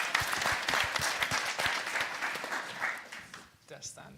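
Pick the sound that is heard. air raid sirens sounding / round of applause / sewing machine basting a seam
round of applause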